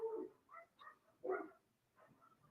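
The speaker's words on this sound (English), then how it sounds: "Man, you can just hear these dogs going crazy outside." Dogs bark outside in short bursts, several yips and barks spread over a couple of seconds, muffled and at a moderate distance.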